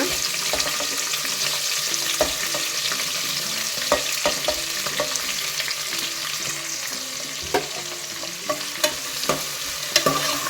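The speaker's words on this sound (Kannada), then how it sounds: "ಈರುಳ್ಳಿ ಸೇರಿಸ್ಕೊಳ್ಳೋಣ." Sliced onions sizzle steadily in a hot pan for white chicken biryani, with repeated scraping and clicking strokes of a spoon stirring them, close and fairly loud, with no talking.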